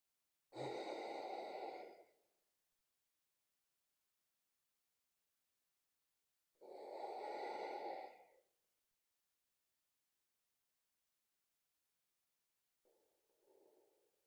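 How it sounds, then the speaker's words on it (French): Two long, slow Ujjayi breaths during a beginner morning vinyasa yoga session, each a steady hissing exhale lasting over a second, clearly separated by silence, with a softer breath starting at the end. "Et on reste ici quelques cycles de respiration Ujjayi."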